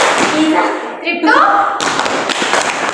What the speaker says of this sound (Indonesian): Tepuk 2 di paha. Tepuk ini 1, tepuk ini 1.